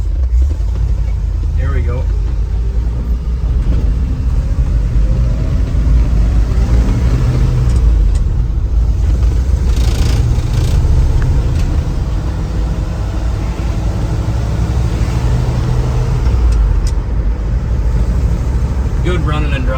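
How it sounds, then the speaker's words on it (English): A 1976 Ford F-150 pickup's engine running close by, a steady low idle with slight rises in revs throughout, while people talk over it. "good running and driving old truck"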